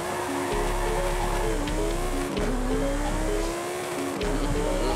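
A Lamborghini Huracán STO engine in Forza Horizon 5 with paddle-shift gears, droning steadily and loudly as it climbs through revs, dipping briefly at a few gear changes.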